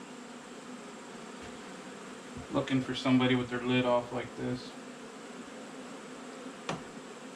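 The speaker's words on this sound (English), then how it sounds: "all my bees are out" Honey bees buzz around an open hive in a steady low drone, with someone talking close by over the swarm for a few seconds.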